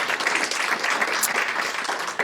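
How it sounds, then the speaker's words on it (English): Brief burst of audience applause at a civic leadership celebration honouring board-matching participants, a dense, steady patter of many hands clapping. "A round of applause for all of you"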